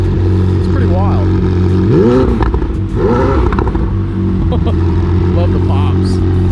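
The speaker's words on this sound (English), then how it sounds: "Love the pops. I mean, your exhaust is literally like, a foot long." A McLaren 765LT's short exhaust revs loudly in bursts, with crackling pops between the revs, while people talk over it.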